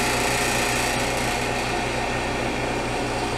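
A home freeze dryer restarting for extra dry time on a batch of sweet potatoes, giving a steady, loud mechanical hum and whir with a pulsing low drone, continuous throughout with no talk.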